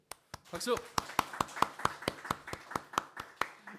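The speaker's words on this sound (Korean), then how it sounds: "박수." A church congregation claps in a slow, even rhythm, a dozen or so sharp unison claps close by, opened by a brief burst of voices.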